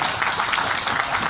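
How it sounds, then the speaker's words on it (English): Steady applause from a convention panel audience, a dense wash of many hands clapping at moderate volume, continuous with no voices standing out. "Appreciate that you're clapping now."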